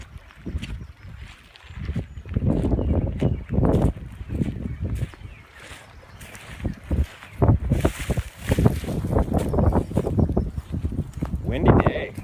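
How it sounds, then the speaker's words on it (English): Wind gusting beside the James River in Missouri, a rumbling, buffeting noise rising and falling in gusts, mixed with someone talking over much of it. "Windy day."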